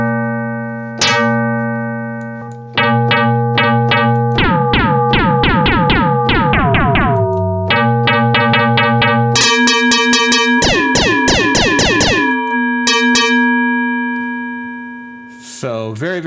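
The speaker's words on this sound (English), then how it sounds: "It just demonstrates what it would sound like if you had a typical oscillator" An MRB Zeroscillator module for Voltage Modular doing FM without through-zero, like a typical oscillator, producing loud, steady electronic tones that jump between pitches with bursts of rapid warbling modulation, no talk.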